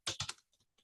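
Fingers type a subdomain into a browser search bar on a computer keyboard: a quick, close burst of three loud keystrokes followed by a few softer, scattered taps.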